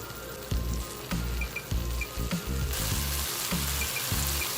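Fish masala roast gravy simmering and reducing on an Indian stovetop, a steady bubbling sizzle with soft pops and intermittent low thumps, close and moderately loud with no talking.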